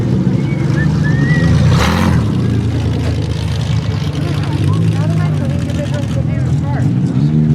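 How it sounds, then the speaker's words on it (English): A mini truck drives past at a fall demolition derby in Connersville, its low engine drone steady and fairly close beneath continuous crowd noise and someone talking. "And then we've got a mini truck coming through here."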